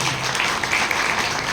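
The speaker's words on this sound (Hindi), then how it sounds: "एक बार इनके लिए ताली आप बजाओ सभी।" A brief burst of audience clapping at a community political gathering, loud, close and continuous for a second or two without a break.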